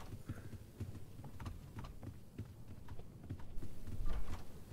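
Horse hooves clip-clop in a spooky video game, a faint, uneven run of soft thuds and knocks at moderate pace that grows a little louder toward the end, with no talk.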